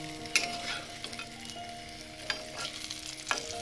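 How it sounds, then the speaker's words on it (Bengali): Pumpkin pieces sizzle and fry in a pan at a steady low crackle, with a few sharp clinks and scrapes of a utensil stirring and turning them. "এখানে কুমড়ো চলছে, কুমড়ো ভাজা চলছে।"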